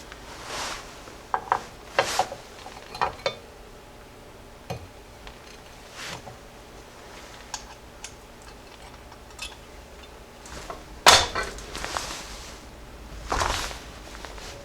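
Metallic clicks, taps and scrapes as drum brake shoes are fitted and locked into place on a Jeep Cherokee XJ, scattered close handling noises with one sharper clank near the end.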